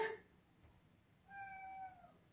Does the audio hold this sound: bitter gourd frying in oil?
no